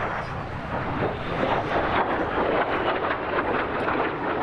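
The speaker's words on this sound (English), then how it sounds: "this aircraft is the only MiG-17 flying in Europe" A MiG-17F Fresco jet flying a display at an air festival, its steady broadband roar sustained throughout with slight swells, loud and continuous with no other sounds standing out.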